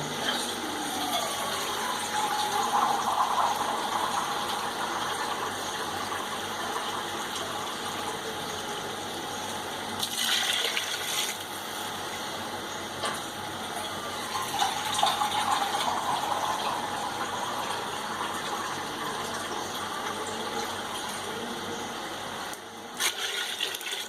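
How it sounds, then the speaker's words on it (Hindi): About three cups of water pour into a pot of soaked rice for chicken pulao, a continuous steady gushing stream with brief breaks, close and fairly loud. "अब इसमें हम ये 3 कप पानी के शामिल करेंगे अपने चावलों के हिसाब से।"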